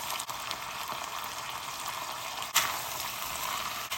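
Beef with green beans and spices sizzling steadily in a pot for Persian loobia polo, an even close frying hiss with a brief stirring clatter midway; no talking.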